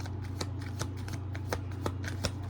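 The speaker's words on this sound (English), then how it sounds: "The last shuffle." Cards being shuffled in quick riffling bursts, several crisp snaps at regular intervals over a steady low hum, close and moderately loud.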